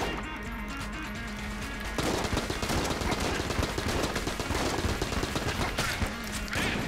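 A Tommy Gun in the game Enter the Gungeon sprays a long, continuous burst of rapid automatic fire, loud and dense from start to finish, with a brief lighter stretch of shots leading in.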